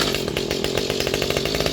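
A small Mantis tiller two-stroke engine runs steadily with the choke set halfway, a loud, continuous buzzing drone with rapid, uneven firing pulses, heard up close and alone.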